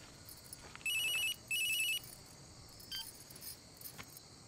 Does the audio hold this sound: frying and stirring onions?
no